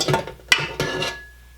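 Mixer beaters are knocked and wiped clean while a bowl of muffin batter is scraped down, giving two or three sharp metallic clinks followed by a fading ring, close and alone.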